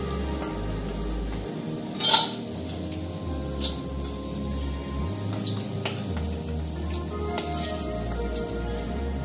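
Crab pieces frying in hot oil for a Bengali crab curry, a steady soft sizzle with crackling pops throughout, one sharper clatter near the start, close and continuous with no talking.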